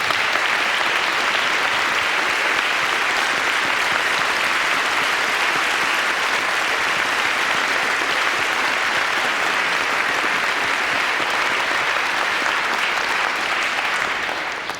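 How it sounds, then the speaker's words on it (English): Concert audience applause at a Christmas show, a large crowd clapping loudly and continuously for about fifteen seconds, dense and steady with no speech over it. "Give her an enormous applause."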